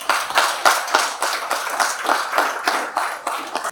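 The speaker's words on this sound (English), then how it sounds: "I therefore ask you to join me in applauding this valiant undertaking of the St. Christopher National Trust." An audience claps at a St. Christopher National Trust ceremony, with distinct, fairly regular claps from a small group, close and moderately loud, in a quick rhythmic pattern.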